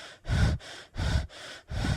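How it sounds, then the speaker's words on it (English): Heavy, labored breaths come in a slow rhythm of three loud, rough inhale-exhale cycles with short pauses between, close to the ear and without any talking. "she collapsed, breathing heavily."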